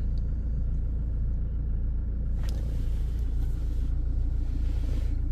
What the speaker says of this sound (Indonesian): Indikator nyala semua, kita nyalakan mesinnya